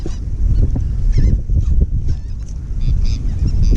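A school of seabirds over the water off Galveston while fishing from a boat, with honking calls repeating close and scattered over strong wind rumble.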